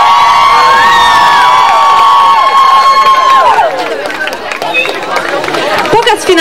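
Audience at a summer camp's final show cheering and shouting, with children's voices and a crowd roar building after a sustained tone fades, loud and close.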